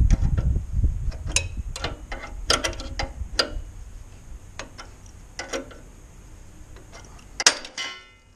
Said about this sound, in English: Tighten it up, and you'll eventually hear a loud pop, and when you do, that means the ball joint is loose.